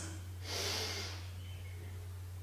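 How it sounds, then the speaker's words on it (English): One slow, audible breath drawn in through the nose during a guided breathing exercise, a soft airy rush lasting under a second over a steady low hum. "Breathing in through your nose,"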